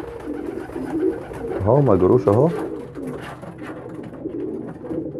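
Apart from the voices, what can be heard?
pigeons cooing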